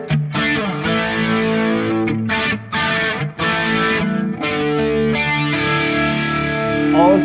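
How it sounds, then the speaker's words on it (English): An electric guitar plays crunchy, highly saturated chords through a Sonicake Matribox 2 with a JCM800-style amp, a drive block and a touch of chorus, loud and up close with brief pauses between phrases. "and together with the drive block you get the high saturation out of the amp with a little bit of a chorus"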